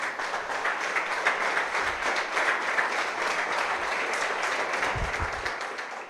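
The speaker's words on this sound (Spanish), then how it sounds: "Denle un aplauso al Señor." Church congregation applauding steadily for several seconds, a dense even wash of clapping without talk.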